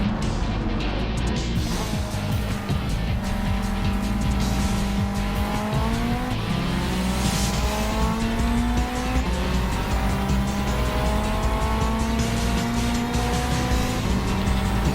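Race cars, including a Renault, sliding through a turn with tires squealing, a long continuous screech layered over revving engines that rise and fall, loud and near throughout.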